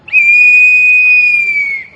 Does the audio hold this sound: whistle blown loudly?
yes